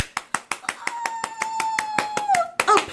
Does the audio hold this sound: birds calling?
no